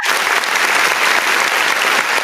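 A short, steady round of applause during a live podcast interview, dense clapping heard alone at constant loudness throughout.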